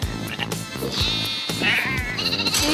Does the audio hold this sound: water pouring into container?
no